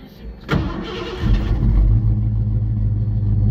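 A 1989 Mazda B2200 pickup fitted with a 302 V8 cold-starts: a sharp crank burst catches within about a second, then the engine settles into a loud, steady, rumbling idle close by.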